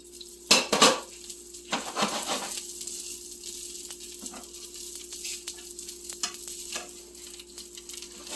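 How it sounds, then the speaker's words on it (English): Crappie fish cakes crisp in a pan with a steady low sizzle, broken by sharp clinks and scrapes of a utensil against the pan near the start and scattered taps afterward. "You're just really crisping them up and warming them up."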